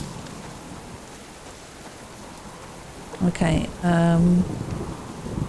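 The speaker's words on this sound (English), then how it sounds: "Very loud up here with this storm raging." A storm rages with steady rain hissing across the ground and a low rumble beneath in the survival game Subsistence, heard close and continuous while someone speaks briefly over it near the end.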